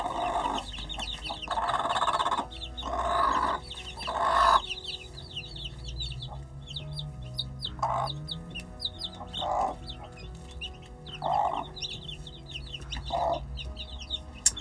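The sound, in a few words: hen with chicks clucking in a chicken coop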